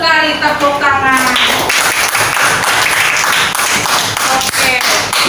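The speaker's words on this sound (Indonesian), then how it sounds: "Betul sekali, tepuk tangan." Schoolchildren in a classroom burst into clapping right after a voice speaks, a loud, dense, uneven patter of many small hands that continues steadily to the end.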